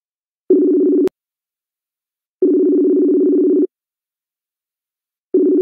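A telephone tone pulses in steady bursts while a call is being placed: a one-second tone, a pause, a longer tone of about a second and a quarter, then another starting, with a sharp click near the start.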